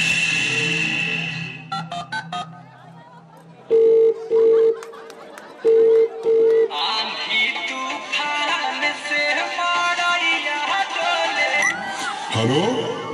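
A few short dialing beeps and tones from a telephone, followed by a busy stretch of voices and laughter.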